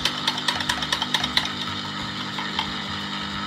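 An ice cream maker is switched on to churn lactose-free fior di latte gelato. A run of light ratcheting clicks settles into a steady, close mechanical hum, with no talking.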